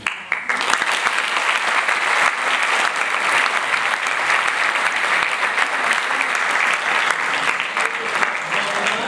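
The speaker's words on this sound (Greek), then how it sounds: "Ένα μεγάλο ευχαριστώ για το θερμό σας χειροκρότημα." Warm audience applause after an amateur theatre play staged by a cultural society on Spetses, a dense, steady wash of many hands clapping that holds loud and even for about nine seconds.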